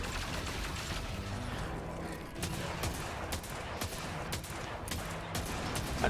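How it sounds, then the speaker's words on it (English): Rapid gunfire crackles in the Destiny video game during a solo run through Tree of Probabilities, sharp repeated shotgun blasts and impacts over a dense continuous mix of game effects. "Now I do a little quick shot and punch."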